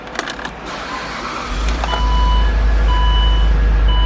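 A 2007 Saab 9-3 Aero convertible with automatic transmission starting up: a few clicks and chimes, then the engine catches and settles into a loud, steady idle with faint electronic tones.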